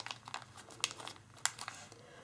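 Origami paper being folded up close: quiet, crisp crinkles and soft creasing snaps in short irregular bursts against a low room hum.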